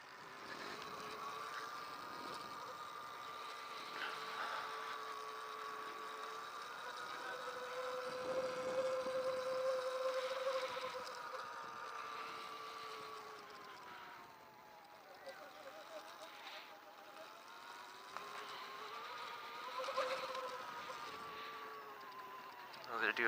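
Small dirt bike engines buzz and rev steadily at a distance during sound checks at a hare scramble race, a thin continuous whine rising and falling over about twenty seconds, with faint voices in the background.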